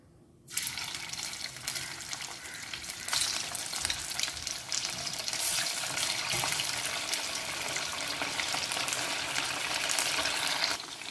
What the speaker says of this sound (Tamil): நம்ம வந்து இப்போ இந்த சிக்கன் பீசஸ் எல்லாத்தையும் அதில் ஒன்று ஒன்றா போட்டுக்கலாம்